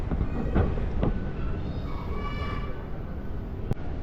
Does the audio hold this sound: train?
yes